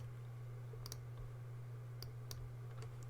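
Computer arrow keys tapped a handful of times, sparse quiet clicks spaced irregularly over a steady low hum, with no talking.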